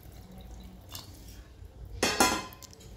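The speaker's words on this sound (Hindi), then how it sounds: "अब इसमें हम पानी डाल देते हैं।" Water is poured into a pan of spicy country-style jackfruit curry, heard as a brief splashing gush near the end after some faint clinks in a quiet kitchen.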